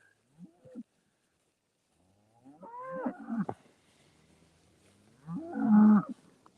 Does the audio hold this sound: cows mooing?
yes